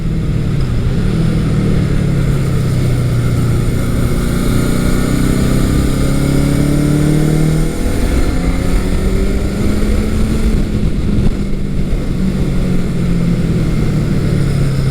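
A Honda CB750 K motorcycle engine and exhaust heard while riding: a loud, continuous close-up drone whose pitch rises and falls with the throttle and gear changes, with no talking.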